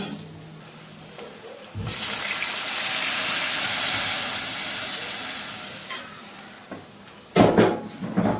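Water holding soaked mustard paste is poured into a hot frying pan with potatoes, setting off a sudden loud rushing hiss that fades slowly, then clatters and a short burst of sizzle.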